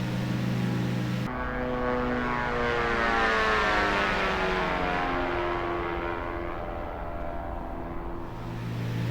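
A simulated aircraft engine drones in flight in the X-Plane 11 flight simulator, a loud, steady propeller hum whose tones slowly sweep and shift throughout, with no talking.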